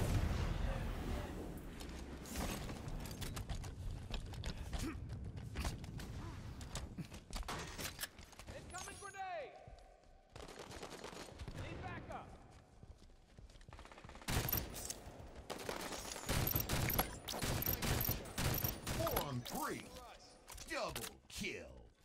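Bursts of gunfire crackle through a Breakout match in Halo 5, rapid volleys and single shots overlapping in dense, loud stretches, with a short lull midway and in-game voice callouts over the fighting.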